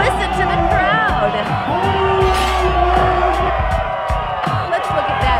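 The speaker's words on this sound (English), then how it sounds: "Listen to the crowd." A crowd at a lowrider show roars and whoops as a lowrider truck flips onto its side, loud sustained cheering with shouts and a commentator's voice over it.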